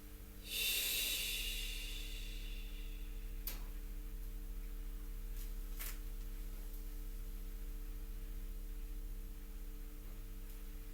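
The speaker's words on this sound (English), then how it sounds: "as you step back and make the sound shh" A single long breathy "shh" exhale during lung qigong practice, close and steady for about a second, then fading into a quiet room with a low electrical hum and a few faint ticks.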